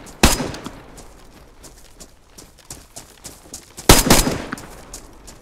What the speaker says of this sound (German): Die Schüsse sind auch lauter als sonst irgendwie.